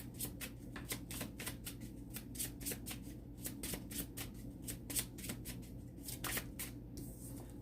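Tarot cards riffle and shuffle in a rapid, steady run of crisp flicks and slaps, close and moderately quiet over a low background hum, with no voice.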